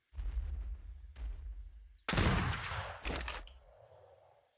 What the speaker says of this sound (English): We're actually shooting the Hydra.